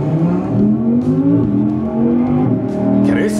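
An Audi R8 engine revs and roars steadily, rising and falling in pitch with throaty harmonics, loud and close, with a brief higher whine near the end.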